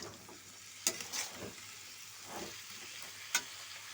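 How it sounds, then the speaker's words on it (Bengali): Mixed fried vegetables stirred together in a pan for a Bengali ghat, giving a soft sizzle with a few sharp spatula scrapes and knocks against the pan, close and moderately quiet, without talk. "দিয়ে দিলাম এক করে একবারে দিয়ে এবার নাড়াচাড়া করবো"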